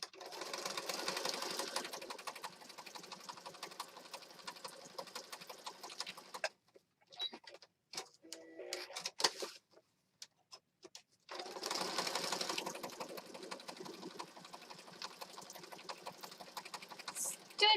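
A sewing machine stitching pocket journals, whirring in a steady, fast, close buzz, stopping for a few seconds of scattered handling clicks, then running again.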